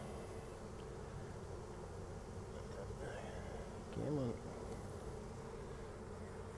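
Honeybees held in a handful from a backyard hive in winter hum in a steady, quiet, close drone; someone briefly speaks over the buzzing partway through.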